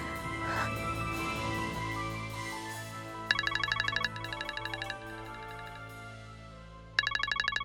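A mobile phone ringtone plays a repeating electronic melody, with bright beeping bursts coming back in regular cycles over a soft tonal background, fairly close and clear, with no talking.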